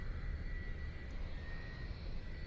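A Southwest airliner passes overhead in Hawaii as a faint, distant, steady jet rumble with a thin whine on top, constant and alone.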